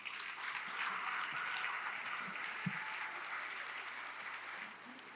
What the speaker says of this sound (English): Give them one more round of applause, please.